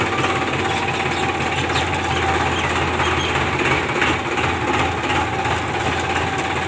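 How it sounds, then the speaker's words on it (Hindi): A tractor engine chugs loud and close as it drives along a village lane near Khatauli, Muzaffarnagar, a steady rattling drone with a rapid mechanical throb and no talk. "हमारा ट्रैक्टर इस गली से इधर को मुड़ेगा"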